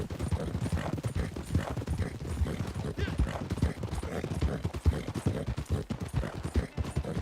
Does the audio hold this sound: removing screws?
no